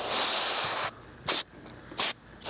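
Brake cleaner sprayed onto a vintage baitcast reel: a loud, close aerosol hiss lasting nearly a second, then two short sharp bursts after brief pauses.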